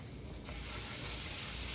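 Food stirred and browning in an old-fashioned skillet while making fettuccine Alfredo, giving a steady, close sizzle that swells slightly louder partway through, with no voices.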